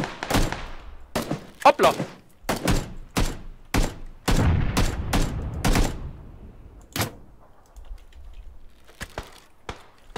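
Gunfire in the battle royale game PUBG, loud sharp shots in irregular clusters, some in quick succession, with ringing tails and quiet gaps, while players talk between them.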